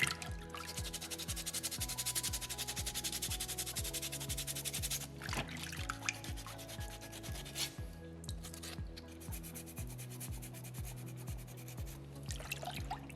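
A small soapstone orca carving is scrubbed and sanded by hand in steady, rhythmic rasping strokes, close and continuous, with no talking.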